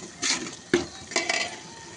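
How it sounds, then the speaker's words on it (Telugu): Ginger paste and onions are stirred in a pan with a spoon, giving three brief scraping clatters against the metal with a faint sizzle between them. "అల్లం పేస్ట్ వేసి పచ్చివాసన వేయే వరకు కలుపుకోవాలి."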